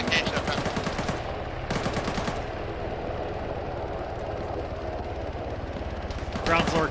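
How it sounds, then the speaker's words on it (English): Gunfire in a military video game, including sniper shots: rapid bursts of automatic fire come in two clusters near the start and again at the end, loud and close, with a voice talking in between. "Looks like I'm taking sniper fire from the west."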